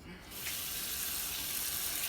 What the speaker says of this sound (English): And so we're going to fill up this with water.